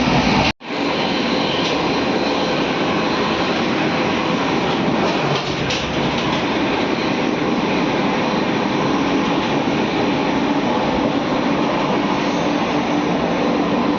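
Steady broadband rumble and rattle inside the moving 12230 Lucknow Mail passenger train, continuous and loud throughout with a brief dropout near the start, no talking.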